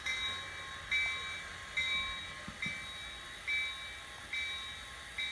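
Kato HO scale model train running on a floor layout, a faint steady rumble with rhythmic whooshing swells and a few soft clicks, sustained tones layered over it, nobody talking.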